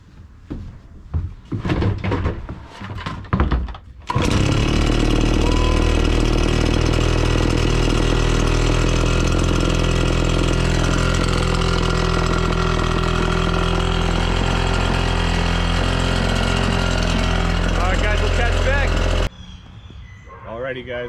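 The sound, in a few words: RedMax leaf blower cold start and running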